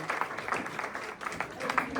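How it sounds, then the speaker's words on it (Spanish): A conference audience applauds to farewell a guest lecturer, a moderate spread of clapping that dips briefly and then picks back up. "Les pedimos un fuerte y caluroso aplauso para despedir a este gran ponente"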